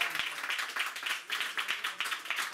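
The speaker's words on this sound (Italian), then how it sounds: "Un altro applauso." An audience claps together at a live radio show presentation, a dense, fairly close burst of applause that swells and dips in rhythmic waves throughout.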